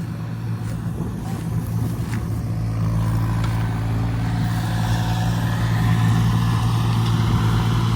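A tractor engine labours under heavy load while towing a stalled combine harvester, a loud, steady low drone with rising strain, running close and continuous without any voices.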